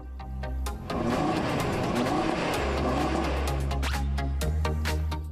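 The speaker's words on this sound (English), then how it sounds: "The car has the typical sound of a 5-cylinder engine" Five-cylinder Audi car engine with two oval exhaust tailpipes, heard as a loud, sustained drone that revs and accelerates, with a few brief sharper bursts near the end and no talking.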